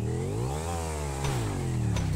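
A motorcycle engine in GTA V, a continuous buzzing drone whose pitch rises, dips and rises again as it revs, close and steady for about two seconds.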